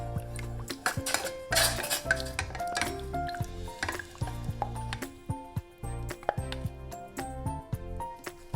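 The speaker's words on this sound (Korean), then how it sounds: "물 120ml에 감자 전분 10g을 넣고 살짝 끓이면서 잘 풀어주세요" Potato starch, 10 g, is stirred into 120 ml of water as it heats in a pot to make a paste for cucumber kimchi. A utensil clinks and scrapes against the pot in repeated close, metallic taps.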